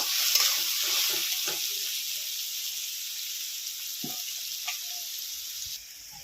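Salted onions fry in a pan for Bengali puti fish curry, with a steady bright sizzle throughout and a few soft stirring knocks.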